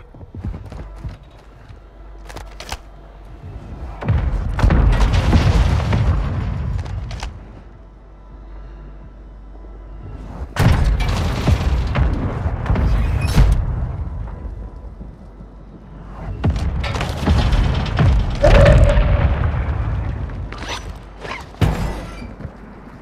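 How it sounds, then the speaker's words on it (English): Mortar strike explosions in Call of Duty: Warzone land in three heavy, rumbling bursts, each lasting several seconds with sharp cracks and debris, separated by quieter gaps of ambient battlefield noise. "Hostile mortar strike near your position."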